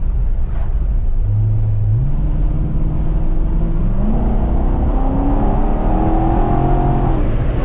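A supercharged C6 Corvette engine with an aftermarket cam rumbles and climbs through the revs on a dyno, its pitch rising step by step as it accelerates, loud and close with a whining top note.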